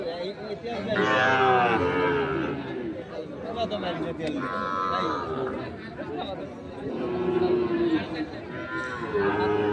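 Sahiwal bulls and calves moo several times amid busy crowd chatter at the Ambari cattle market, with people talking nearby throughout.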